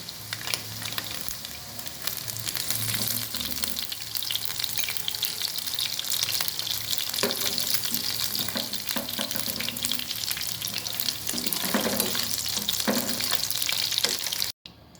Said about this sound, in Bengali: ঠিক একই পদ্ধতিতে আমি বাকি মাংসগুলো ভেজে নেব